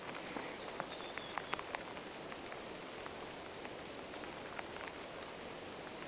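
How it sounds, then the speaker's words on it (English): Steady rain patters on the ground and a raincoat at a campsite, with scattered sharper drops tapping close by over a soft continuous hiss. "I can just hear the rain hitting the ground and my raincoat"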